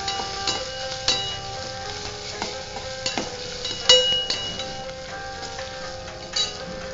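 Potato and onion being stirred in a pan for jowar upma, with a light steady sizzle and clacking spoon knocks against the pan scattered throughout, close and fairly quiet.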